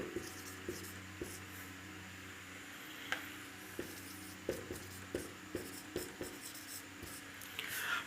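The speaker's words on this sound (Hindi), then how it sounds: "मैं यहां लिख देता हूं इसकी ट्रिक।" Chalk or marker writing on a board during a chemistry lesson on the periodic table: steady scratchy strokes with short tapping ticks at irregular intervals, close and quiet, with no talking.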